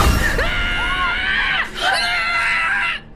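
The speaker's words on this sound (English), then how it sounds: "It all started with a terrified scream that echoed through the house." Loud, terrified screams ring out through a house, two long shrieking bursts with a brief break between them, sounding close and slightly echoing.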